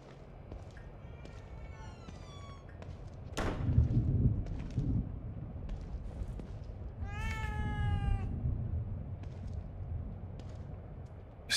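In the horror game The Evil Within 2, a cat meows several times, faint and mid-distance, with a drawn-out wavering cry near the end. Soft ambient rumble and a thud lie underneath, and no one speaks.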